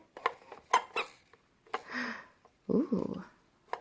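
A squeaky toy squeezed several times in short, sharp squeaks, close by, with someone talking softly between and over them.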